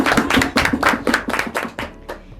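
A handful of students clap close by during an online school chat session, about a dozen sharp, separate claps in a quick uneven rhythm that thins out and stops after about two seconds.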